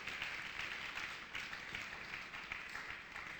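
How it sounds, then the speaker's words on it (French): Applause from a church congregation during a worship service, a faint, steady patter of many hands clapping continuously throughout. "Applaudissons Jésus"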